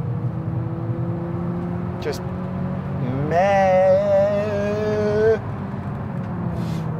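Abarth 500e electric car driven on a track, its synthetic engine sound rising in a loud, buzzy whine for about two seconds before cutting off, with road rumble throughout and a brief spoken word.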